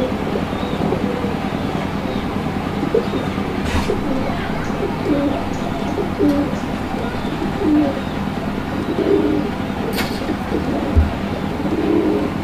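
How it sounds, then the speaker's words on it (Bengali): Pigeons, including large round-bodied and sky-blue breeds, coo steadily nearby in a busy loft, with soft repeated low calls over a constant noisy background and a few sharp knocks. "এটাও অনেক বড় সাইজের একটা কবুতর মাশাআল্লাহ"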